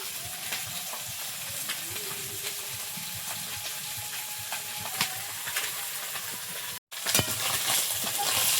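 Fish sizzles steadily in oil in a kadai for a Bengali fish curry, a continuous close crackling hiss with small pops throughout and a brief break near the end.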